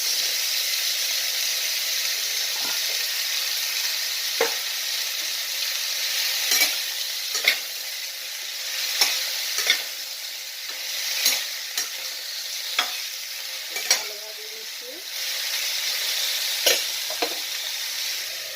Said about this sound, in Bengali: পটলটা দিয়ে দিলাম